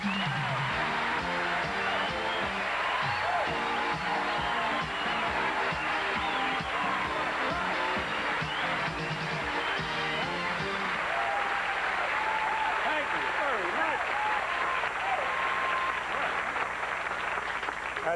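A studio audience at a Star Search taping cheers and applauds continuously, with dense clapping and scattered whoops throughout, and music under the first part.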